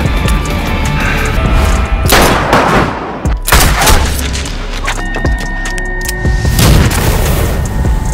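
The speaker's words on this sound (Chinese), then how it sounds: "但此时却突然有人引爆了一个炸弹" A bomb explodes during a Korean crime drama, with loud booms and gunfire-like bursts under a dense, chaotic soundtrack, several heavy impacts spread across the scene.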